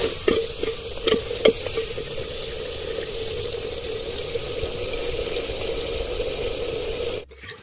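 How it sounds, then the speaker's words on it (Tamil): Three tomatoes fry in a pan, with a few spoon-stirring clicks early on over a steady close sizzle that stops abruptly near the end. "மூணு தக்காளி போட்டிருக்கிறேங்க."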